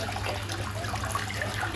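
Water from a toilet pan's flush rim swirls steadily around the whole bowl, a close, continuous rushing trickle that carries on evenly throughout.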